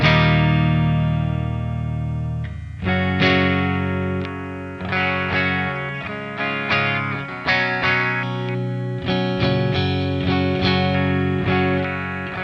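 A Stratocaster electric guitar plays straight into a D20 amp with reverb and tape echo added. Struck chords ring out and decay, followed by a run of rhythmic, sustained chord hits without any voice.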